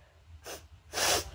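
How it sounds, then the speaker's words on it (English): Two sneezes from a person in a cartoon-style show about catching a cold: a short first burst, then a louder, longer explosive sneeze close to the mic, with faint breathing between. "Did you just sneeze?"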